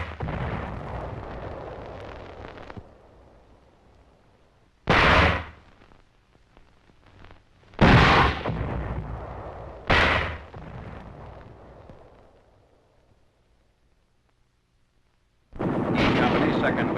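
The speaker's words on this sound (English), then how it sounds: "Enemy troops in a rice paddy are subjected to the mortar fire." World War II newsreel mortar fire from a 4.2-inch mortar aimed at enemy troops in a rice paddy: three separate heavy blasts, each with a broad booming rumble that decays, spaced a few seconds apart between stretches of quieter ambient noise.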